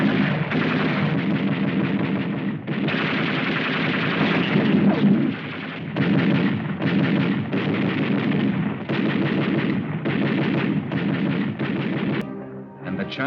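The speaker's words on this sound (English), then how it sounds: "machine guns picked them off as they ran." Archival 1945 wartime combat recording of machine guns firing on soldiers fleeing pillboxes in the China-Burma-India campaign: dense, loud, rapid bursts of gunfire with brief gaps, rough and continuous.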